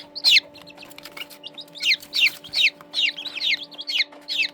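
Young Serama bantam chickens, about a month old, give a steady series of high, short chirping clucks in close succession, close and fairly clear over a faint constant hum.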